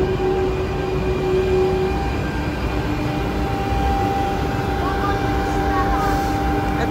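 A Czech České dráhy Pendolino passenger train produces a steady, continuous rumble with faint whining tones running throughout, while a person talks over it.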